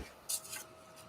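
Two short, scratchy strokes of a charcoal pencil rasp across paper, close up, against a quiet background.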